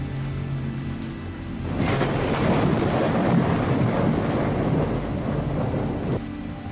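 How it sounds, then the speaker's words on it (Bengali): Heavy rain pours down in a dense, roaring wash with a low rumble beneath. It swells after a couple of seconds, stays loud, then eases slightly. "মুষলধার বৃষ্টিও পড়ছিল"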